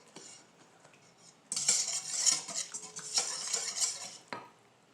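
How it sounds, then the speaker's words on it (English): Wire whisk and spoon beating batter in a bowl, with clattering metal scraping and rapid stirring strokes that start quiet and then grow loud and busy, running steadily close up without any voices. "Yes, use a wire whisk."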